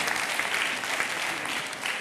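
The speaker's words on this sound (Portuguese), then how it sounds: "Salva de palmas para o Bruno." Audience applause at a live Portuguese stage event, a steady burst of clapping from a crowd filling the space, close and loud throughout with no pauses.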